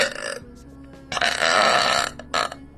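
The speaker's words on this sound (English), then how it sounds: "This is a big, long thank you burp video to let y'all know what's going on." A woman lets out a loud, close burp that rasps on for nearly a second after a short vocal lead-in, then ends in a brief final gurgle.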